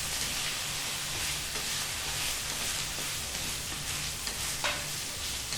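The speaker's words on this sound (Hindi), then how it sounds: "अब भुनाई करेंगे इसको अच्छे से" Potatoes with their peels being roasted and stirred in a pan for a dry aloo choliya dish give a continuous soft sizzle. Occasional scraping stir sounds rise over it, and there is no talk.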